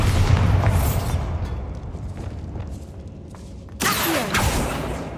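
Bombarda explosion spell blasts in the Hogwarts Legacy video game, a sudden loud boom with a bright crackling burst that rings over steady rumbling game ambience.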